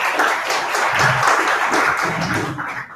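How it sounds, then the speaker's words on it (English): A round of applause from the crowd at a tech meetup, steady and dense for about three seconds before thinning out at the end. "Please give a round of applause to everybody"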